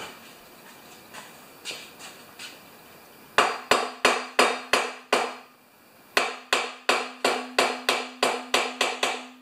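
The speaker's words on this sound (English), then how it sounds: "Tap it in with a hammer." A hammer taps a part into a Craftsman 6.5 HP Tecumseh engine: a few soft taps, then two quick bursts of sharp, evenly spaced metallic strikes, each ringing briefly.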